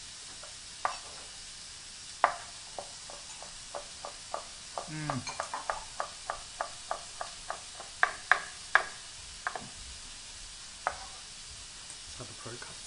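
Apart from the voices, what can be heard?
chopping food while cooking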